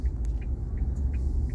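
A 2021 Isuzu D-Max rounds a roundabout, its engine and road noise forming a steady low rumble with faint high chirps from inside the cab.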